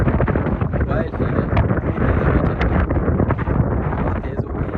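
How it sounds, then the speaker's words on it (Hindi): Strong wind buffeting a mobile phone microphone at a seaside kite-flying spot, a steady loud roaring rumble throughout with a voice faintly underneath. "हवा बहुत तेज़ चल रही है दोस्तों"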